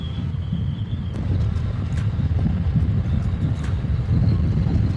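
A 2020 BMW F900R motorcycle revving and pulling hard under acceleration on the road: a deep, rumbling engine drone with wind rush over it, swelling slightly and staying loud and near.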